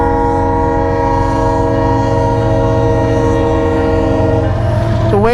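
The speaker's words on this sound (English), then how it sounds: "Oh, there's definitely a train. I can hear it now." A train passes close by at a rural crossing, a loud sustained horn blast ringing over the deep rumble of rolling cars, with the horn pitch bending downward near the end.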